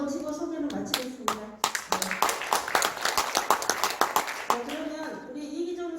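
Clapping from an audience at a forum commemorating the Yeosu-Suncheon uprising, a dense burst of close, overlapping hand claps that swells and then fades, with a voice speaking at the start and end.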